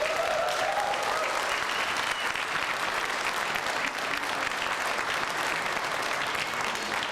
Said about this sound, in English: They're all cheering for you.